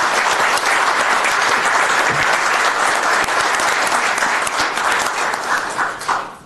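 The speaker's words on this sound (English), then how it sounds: "That deserves a round of applause" Steady round of applause from the audience at a Glendale city council meeting, dense clapping held at even strength for several seconds before thinning out and fading near the end.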